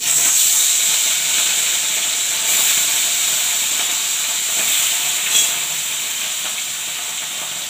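Chara pona fish dropped into hot oil for a fish jhol, a loud, continuous sizzling hiss that holds steady and then eases slightly, with no voices.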